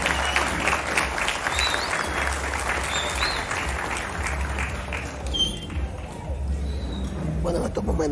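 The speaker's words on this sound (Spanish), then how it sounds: "vamos a recibir con este aplauso de alegría a nuestra alcaldesa Fidelice Méndez" A crowd applauds steadily to welcome the mayor at the inauguration of the central park in Guaymate, with a voice speaking over the sustained outdoor clapping.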